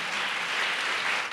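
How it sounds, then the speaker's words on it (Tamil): A church congregation claps together in steady, dense applause that fills the whole moment, with no voices standing out. "Let's all clap."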